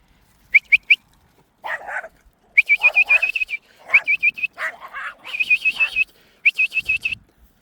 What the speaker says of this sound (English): But we have the attack dog.